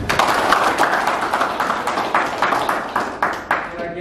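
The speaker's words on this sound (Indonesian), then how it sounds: "Oke, tepuk tangan." An audience in a correctional counseling session claps hands in a steady, dense patter that fills the moment, loud and close, with a voice faintly underneath.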